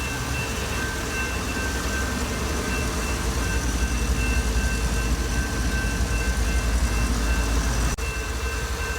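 A train rumbles steadily past nearby, a continuous loud roar with rolling rail noise and a faint high whine, no voices.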